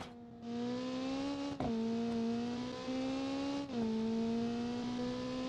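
A car engine in the driving game BeamNG revs hard and accelerates, its pitch rising and dipping at two quick gear shifts, loud and sustained with no talking.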